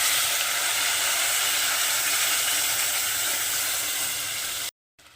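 Spice paste sizzling in hot oil in a pan while cooking butter paneer, a steady broadband hiss running continuously and fairly close for several seconds, then cutting off abruptly near the end with no talk.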